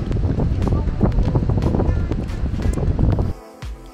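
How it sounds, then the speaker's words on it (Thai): Strong wind buffets the microphone at Kurobe Dam in the Japan Alps, a steady loud roar with gusting surges that drops away abruptly near the end. "โอ้ยลมแรงมาก"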